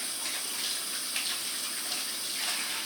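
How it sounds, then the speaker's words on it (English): Steady hiss of water running from a kitchen sink tap while hands are washed, a continuous close rush with slight splashing variation and no voices. "I'm going to go quickly wash my hands over here at the sink here in the kitchen"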